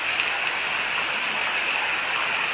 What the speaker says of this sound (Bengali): সিলেট শহরে বৃষ্টি হচ্ছে।